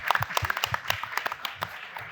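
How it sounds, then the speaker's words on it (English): A small group applauds for a woman named Karen after a panel event, scattered individual claps at close range forming a brief, uneven round. "Let's give her a round of applause so she can hear it out there"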